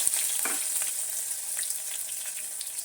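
Sliced onions sizzle in hot oil in a pan for cabbage pulao, a steady close frying hiss with a few crackles near the start, with no voices.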